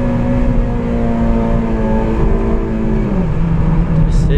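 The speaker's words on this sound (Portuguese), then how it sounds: "Mas olha o ronquinho. Vamos pegar aqui para conseguir acelerar." A Honda Civic Si engine runs through an aftermarket exhaust, a loud, steady droning note held close to the car that dips slightly in pitch partway through.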